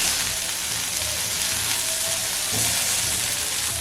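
Tandoori prawns roast on a hot pan, giving a steady, even sizzle that stays close and continuous with no talking.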